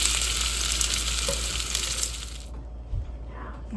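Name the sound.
lasagna sizzling and bubbling, just out of the oven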